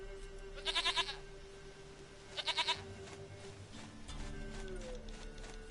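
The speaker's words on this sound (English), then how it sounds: "Goat of mine, dearest, sweetest goat." Goat bleating in The Witcher game, given as two short bleats a couple of seconds apart over a quiet ambient bed, with faint low rumbling after them.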